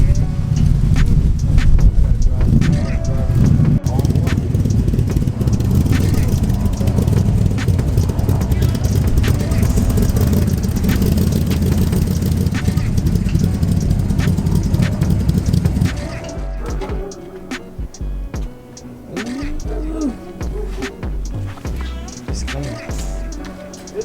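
A Foxbody Mustang notchback drag car runs loud and close with a harsh, blustery roar for about sixteen seconds, then drops to a quieter, uneven idle with rattles and scattered knocks.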